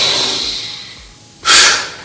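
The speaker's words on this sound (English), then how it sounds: "when I inhale" A single deep breath drawn in through the nose, filling the belly, comes as a loud, airy rush about a second and a half in, following a softer, steady breathy stretch.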